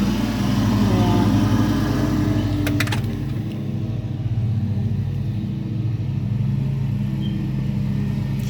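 A lawnmower cuts grass at a house, its steady motor rumble running continuously and fairly close, with a few brief clanks partway through.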